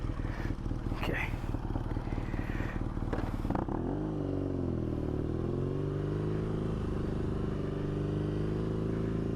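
A motorcycle rides along, its engine droning loudly and steadily close by. After a few seconds the pitch rises and falls as the rider works the throttle, with faint clatter over it at the start.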